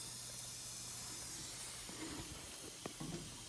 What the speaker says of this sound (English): That's either hissing or steam. No, there's steam.